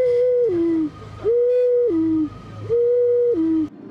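A clay folk whistle toy imitating an eagle owl's hoot, three loud, close, sustained two-step tones, each steady then dropping in pitch, spaced with short pauses, no voices.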